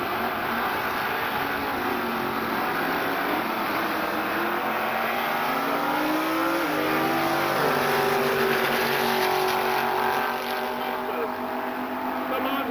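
A Super Street Chevy Nova and a Chevy Monza drag race down the strip, engines roaring and revving with rising and falling pitch, a loud sustained run, with an announcer talking over it.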